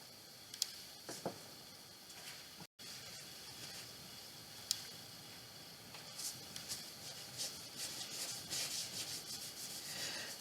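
Waverly wax stain is rubbed onto a small 5x7 wooden base with a soft, continuous scrubbing sound that grows a little busier toward the end. It stays faint and close, with a few light taps.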